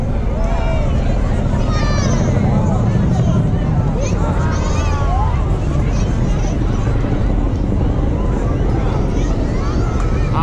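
A Chinook helicopter flies an air show display and pulls up into a pedal turn. Its engine and rotor roar is loud and continuous, with wind buffeting the microphone and a crowd murmuring underneath.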